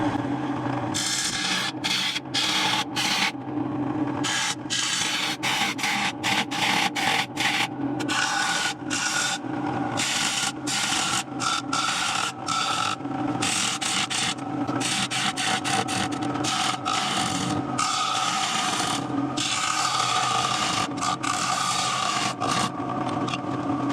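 Wood is scraped and rubbed while a wooden bowl is hollowed on a lathe, a steady dry rasping texture with rapid rhythmic cutting strokes running continuously and close throughout, with no talking.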